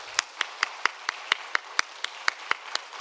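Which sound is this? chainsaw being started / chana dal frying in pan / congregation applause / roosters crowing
congregation applause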